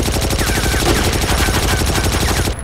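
Loud, dense gunfire fills a World War II video game battle during the 1941 invasion of the Philippines, with rapid shots layered over one another in a continuous barrage that drops off abruptly at the end.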